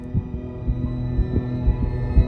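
A heartbeat effect thuds underwater in a steady, muffled low rhythm of about two beats per second, swelling slightly louder over a dull submerged hum, with no voices.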